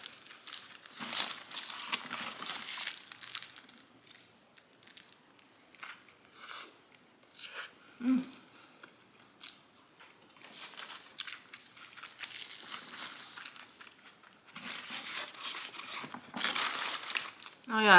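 Burger King onion rings and fries being eaten up close, with paper wrappers crinkling, crisp bites and quiet chewing in scattered bursts.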